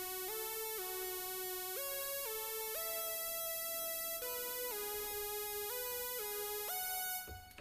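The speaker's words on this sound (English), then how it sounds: "this extra analog synth sound comes in" An analog synth sound on a Roland JD-Xi plays a bright, buzzy, sustained melodic line from a cover song, stepping between held notes, loud and steady before cutting off at the end.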